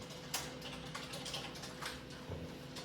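Computer keyboard typing while entering tax accounting data, a quiet series of irregular clicking keystrokes with small pauses, close and faint, no talk over it.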